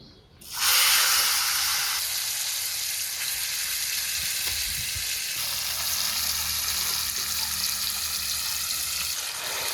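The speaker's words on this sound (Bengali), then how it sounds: "এখনই ঝরানো শাক ঢেলে দিই, তবে একবারে দেবো না, তেল ছিটতে পারে।" Drained taro greens hit hot oil with dried chillies and nigella seeds, setting off a sudden loud burst of sizzle that holds as a dense, steady spitting hiss, close and continuous, with no talking.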